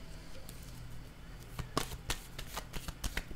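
Tarot cards shuffled by hand in a quiet room, a run of soft riffling flicks and slaps with a few sharper snaps, fairly close and without talk.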